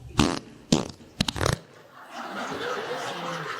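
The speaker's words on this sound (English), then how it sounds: "That might have actually been a fart I was feeling." Three short farts burst out in quick succession, the last a rapid sputtering run, loud and close, followed by a stretch of laughter.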